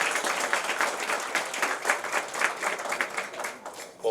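Steady applause from an audience at a business luncheon meeting, many hands clapping densely and continuously at moderate volume throughout.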